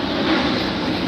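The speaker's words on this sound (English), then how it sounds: "I have more or less airplane passing again." An airplane passing overhead gives a steady, loud engine drone with a broad roaring hum, continuous and unbroken for the whole short stretch.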